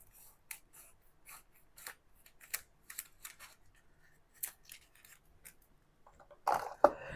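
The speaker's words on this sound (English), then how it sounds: "I am going to snip the top off of this thing." Scissors snip the top off a craft package in a series of short, crisp, close cuts at uneven intervals. A louder rustle of handling comes at the end.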